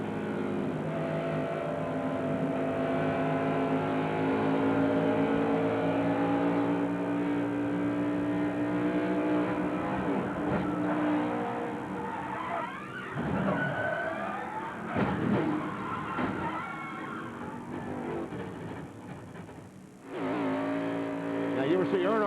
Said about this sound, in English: What we heard in Ward Burton's replay, the audio from that, Benny, was that he feathered the gas pedal